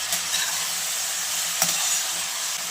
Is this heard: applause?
no